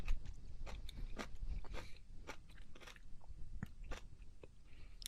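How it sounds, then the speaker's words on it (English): Close-miked chewing and crunching as someone eats for an ASMR recording: irregular crisp bites and moist mastication sounds repeat quickly and closely throughout, with no talking. "All the sounds of somebody else eating."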